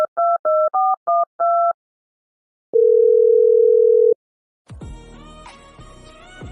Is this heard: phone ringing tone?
yes